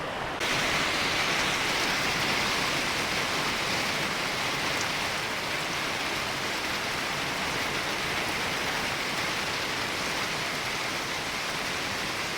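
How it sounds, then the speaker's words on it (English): Steady, heavy rain pours outdoors without a break, a dense broadband hiss with no voices. "As you can hear, it's raining outside"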